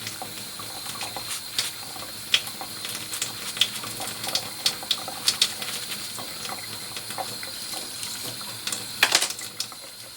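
Running tap water rinses a shaving brush, a faint steady hiss broken by scattered light splashes and drips, with no voices.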